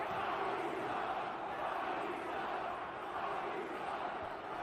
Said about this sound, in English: I will say the St. Louis crowd, when they allowed them to be heard, was hot last night